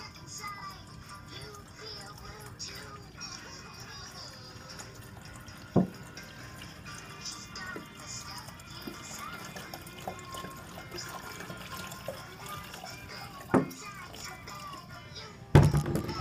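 Water running from a tap into a container to top it back up, a steady trickle with drips and a few sharp knocks, as a voice talks over it nearby.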